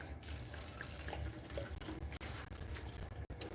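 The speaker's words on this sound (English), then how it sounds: "let me just add some water here" Water pours into a homemade watering bottle, a steady close trickle and splash with small dripping patters, continuous for a few seconds without talk.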